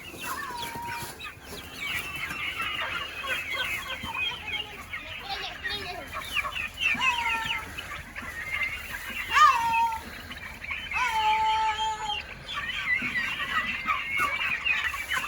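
Busy turkey chatter of clucks and calls from several birds, fairly close, with a few louder squawks standing out over a steady barnyard din.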